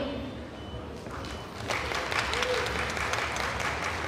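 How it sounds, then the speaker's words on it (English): Audience applause at a Miss/Mrs/Teen India USA 2022 pageant event, a steady wash of many hands clapping that swells louder partway through and continues without voices. "Yes, you can applaud."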